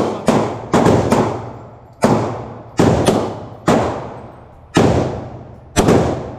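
Seven sharp, loud gunshots from a real gun at an outdoor shooting range in the USA, fired singly at irregular intervals, each with a sharp crack and a decaying boom.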